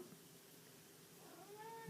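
A domestic cat named Tiger meows nearby in a home pottery studio, a short rising-and-falling call near the end of a quiet stretch, with no talking over it.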